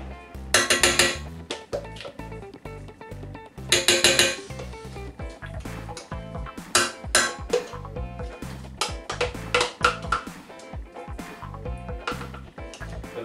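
Utensils clink and scrape against a cooking pot as pesto is stirred into spaghetti, irregular bright metallic knocks and rattles in bursts, close and fairly loud.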